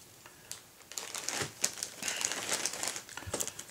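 A plastic bag crinkles and rustles up close as a small RC servo is slipped inside, a busy run of crackly snaps growing denser after the first second.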